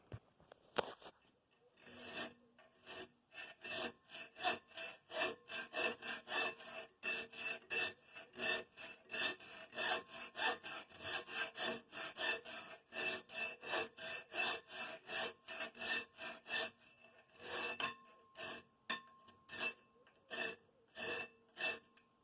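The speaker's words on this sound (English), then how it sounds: "let me get to drilling and cutting" Rhythmic rasping strokes of a tool drilling and cutting metal for a Gibson tractor brake band repeat in a steady back-and-forth pattern, close and fairly quiet, with brief pauses between runs.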